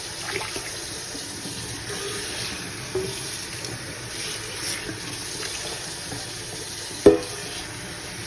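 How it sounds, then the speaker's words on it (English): Rice gets washed in water at a kitchen sink, soft swishing and trickling with an occasional light clink and one sharper knock near the end, quiet and close. "So I'm going to continue to wash this rice"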